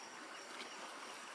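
Faint, brief rushing of water flowing in a stream at a rural fishing spot in the early morning, a soft, even hiss with no talking.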